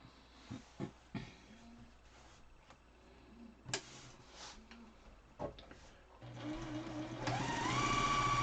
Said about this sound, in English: So let's sew our darts right here.